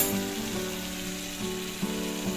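Dry chili powder and cumin powder sizzle in hot oil in a pan while a Bengali katla fish curry is being made, a steady close frying hiss with faint stirring scrapes.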